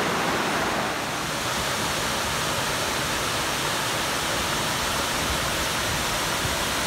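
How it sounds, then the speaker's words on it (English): Laurel Falls, a waterfall beside the Appalachian Trail near Roan Mountain, Tennessee, gives a dense, steady roar of falling water, loud and close, with no voices over it. "we just came from Laurel Falls, the waterfall,"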